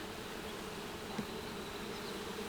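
Honeybees hum around a newly split hive fitted with a sugar-water feeder, a steady moderate buzz with one brief tap partway through and no talk.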